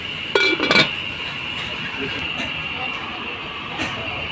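A lid clinks onto a cooking pot of chicken sinampalokan with radish, two quick metallic clatters near the start, followed by a steady background hum.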